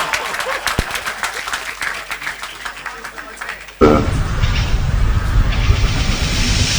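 An audience applauds the president at a formal gathering, a dense ongoing clatter of clapping that swells abruptly louder midway and continues.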